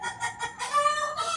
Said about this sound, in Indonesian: Ah, bising amat tuh ayam tuh.